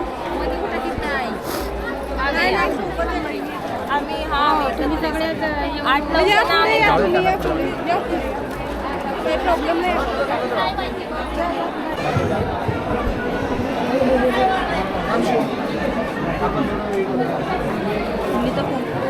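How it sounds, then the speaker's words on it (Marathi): A dense crowd chatters and murmurs at the Kaleshwari Devi temple fair in Kusumbi, with many overlapping voices forming a steady, busy babble throughout. "गर्दी खूप आहे"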